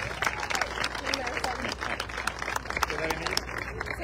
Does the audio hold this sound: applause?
yes